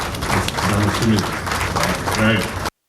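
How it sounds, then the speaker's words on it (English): An audience applauds a young African man at a Ghana cybersecurity and digital inclusion event, steady clapping running close and full for nearly three seconds while voices murmur and talk over it, then cutting off abruptly. "let's give a special applause to this African young man who has really made an impact"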